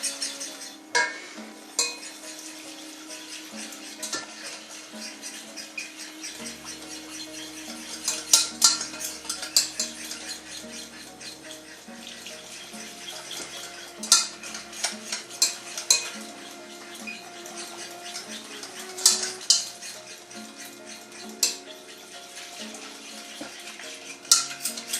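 Spoon stirring white sauce in a pot on the stove, continuous close scraping and clinking against the metal with regular sharper knocks, faint bubbling underneath, no talking.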